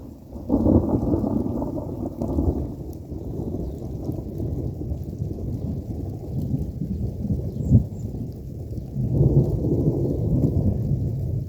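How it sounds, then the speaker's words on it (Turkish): Low, rolling rumbles of thunder fill the stretch, swelling and fading with a steady rain-like wash underneath. "Neyse gök gürültüleri de geliyor ara sıra."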